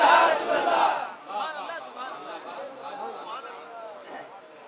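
A large gathering answers a takbir call at a religious address in Bhopal, a loud collective shout bursting out at first, then fading into scattered crowd chatter and murmuring.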